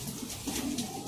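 A slate-grey pigeon, a high-flyer kept by pigeon fanciers, gives a short, soft coo, a low murmuring call repeated a couple of times in quick succession over faint background noise.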